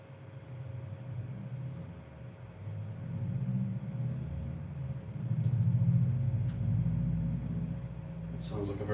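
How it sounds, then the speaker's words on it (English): A turbocharged car passes outside a flat, heard from indoors as a low, distant engine rumble that swells twice and fades, with a faint steady hum underneath. "Sounds like a very turbocharged car going past my flat."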